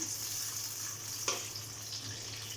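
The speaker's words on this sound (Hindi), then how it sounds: "अब ये प्याज आपने इस ऑयल में दोबारा से डाल देनी है।" Blended onion, already cooked, frying in oil for a chana aloo dish, heard as a steady soft sizzle with a faint low hum beneath and one brief clink partway through.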